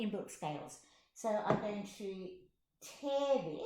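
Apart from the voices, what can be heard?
No everyday noise stands out behind the speech.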